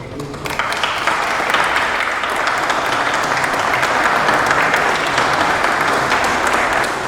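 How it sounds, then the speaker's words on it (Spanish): An audience at a book presentation breaks into dense, sustained applause, loud and close, with many hands clapping steadily for several seconds after a brief quiet start. "Un aplauso para ustedes."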